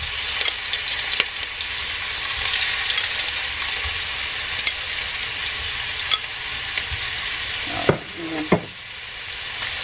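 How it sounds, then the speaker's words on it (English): Shrimp fry in hot oil with a steady, close sizzle that holds for most of the time. A couple of louder clatters from the pan come near the end, and no one speaks. "the oil is ready, so I'm going to go ahead and start adding my shrimp"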